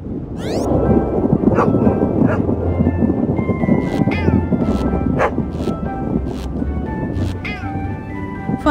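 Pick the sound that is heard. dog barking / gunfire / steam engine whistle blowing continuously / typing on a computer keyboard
dog barking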